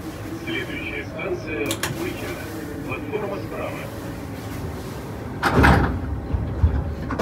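A metro train's sliding door thuds shut with a short rush of air amid steady rumbling train noise, with a voice speaking earlier.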